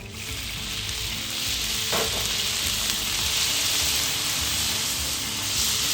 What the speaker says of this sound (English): So we're going to drop this butter on here.